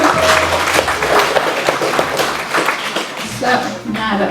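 A room full of people claps steadily in warm applause at a retirement celebration, loud and close, with a voice briefly audible near the end.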